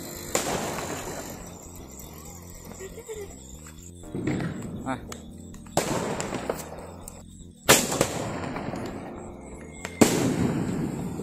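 Tarzan firecrackers bursting during Diwali celebrations, a run of loud sharp blasts at roughly two-second intervals, each followed by crackling debris and rumbling echo, with voices talking in between.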